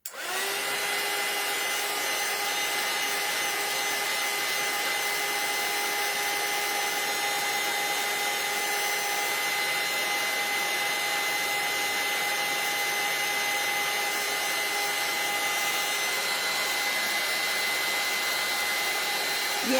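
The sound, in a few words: hair dryer drying glue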